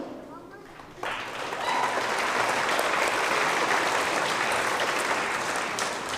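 Sustained applause from an award show audience, starting after a quieter first second and then holding steady as a dense, loud wash of clapping with crowd noise throughout.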